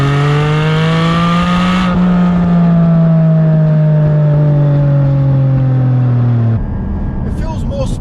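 A 2020 Porsche 718 Boxster Spyder engine revving hard, one sustained climbing pull with a strong steady tone that cuts off sharply into quieter cabin noise, close and loud.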